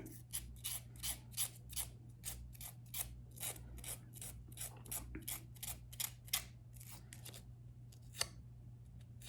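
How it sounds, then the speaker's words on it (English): A nail file rasps back and forth to remove excess nail polish strip from a fingernail, producing a steady run of short, crisp scraping strokes, close and quiet, slowing toward the end. "Now I'm gonna take my file."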